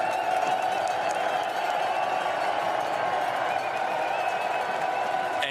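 A large crowd of Belgian fans roars and cheers beside a road cycling World Championships race, a dense continuous wash of voices and clapping at steady volume throughout.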